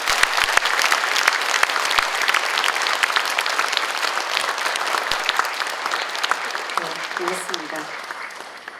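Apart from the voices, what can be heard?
audience applause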